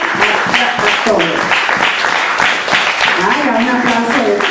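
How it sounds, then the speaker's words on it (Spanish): Applause from a church congregation at a Sunday service, steady dense clapping running through the whole stretch with voices mixed in underneath. "un aplauso de ustedes, eso me gusta"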